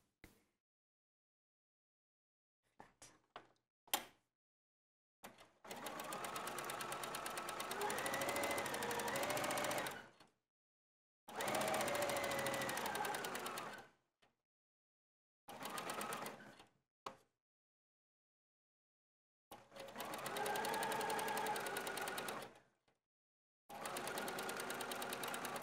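Sewing machine stitching a long seam on a coat facing, running in several steady bursts of a few seconds each, separated by short silences and a few light clicks; close and fairly quiet.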